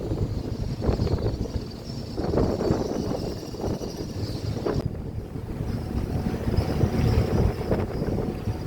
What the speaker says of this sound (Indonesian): mohon maaf suaranya saya dubbing karena anginnya ribut banget ya